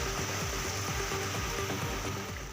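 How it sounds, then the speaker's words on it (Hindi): Heavy rain falls steadily in Guwahati, Assam, amid flooding, a dense, continuous hiss of drops on surfaces with a constant faint tone underneath, fairly quiet and without speech. "यहाँ 24 घंटे से हो रही बारिश ने लोगों का हाल बेहाल कर दिया है।"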